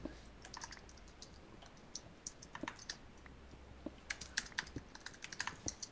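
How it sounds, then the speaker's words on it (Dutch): Rapid typing on a computer keyboard during a Minecraft multiplayer session, a quiet run of irregular clicky keystrokes that grows busier and louder toward the end over low background hum. "Wacht, ik zal het nu even typen wat jij hebt ingetypt."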